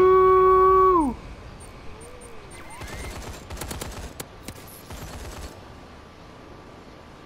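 A suppressed BAL-27 rifle fires in the video game Call of Duty: Advanced Warfare. Rapid bursts of muffled shots crackle midway through, after a loud electronic tone cuts off.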